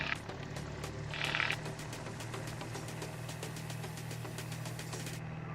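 The engine of a small aircraft drones steadily and fairly faint during its takeoff roll on runway 5, with a continuous low hum and a brief higher whine near the start.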